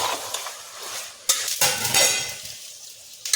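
Minced keema and green peas fry in a hot pan, with a steady sizzle broken by the scrape and clatter of a spoon stirring against the metal, close and fairly loud.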